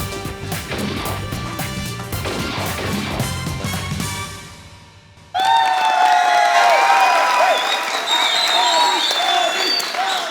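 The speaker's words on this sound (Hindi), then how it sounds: "तालियां।" A studio audience applauds for a cricket talk show, with music and crashing effects running under it. After a brief dip the clapping and cheering return loud and sustained.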